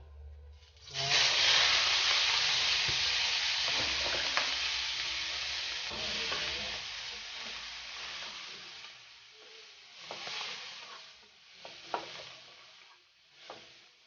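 Mussels (tahong) hit hot chicken oil in a pan, setting off a loud, steady sizzle that starts abruptly and fades slowly, broken by occasional pops and crackles near the end.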